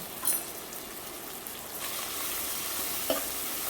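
Spices stirred into sautéed onion and tomato in a pressure cooker pan, a soft steady sizzle with occasional faint scrapes of the spoon, fairly quiet.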